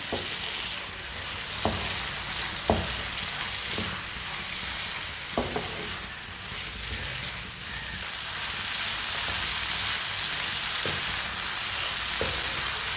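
Red chilli and other ingredients frying on medium heat, a steady sizzle running throughout, with occasional sharp clicks and stirring knocks against the pan.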